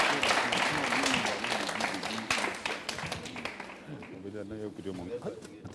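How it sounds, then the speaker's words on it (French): Studio audience clapping on a Burkinabè TV entertainment show, steady applause under a French-speaking host's voice, then giving way to music with singing near the end. "Plus d'applaudissements, s'il vous plaît,"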